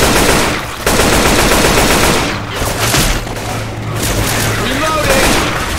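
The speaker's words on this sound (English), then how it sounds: "Gonna take the assault rifle." Assault rifle fire in the zombie shooter Left 4 Dead 2, loud sustained automatic bursts with a brief pause, a voice speaking over the shooting.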